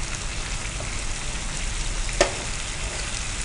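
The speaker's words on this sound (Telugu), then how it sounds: "సో మనం పులుసు వేసుకున్నాం, ఆ పులుసులో ఉన్న పచ్చిదనం కూడా పోయేంత వరకు మనం కొంచెం వేగించుకుంటున్నాం కదా" Tamarind stew with okra and tomato simmering and frying in a pan: a steady, soft sizzle and bubbling with one brief click partway through, and no voices over it.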